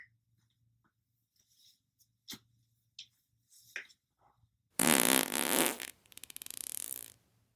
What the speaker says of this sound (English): Allow yourself to have at least one loud, juicy fart every time you come into downward dog.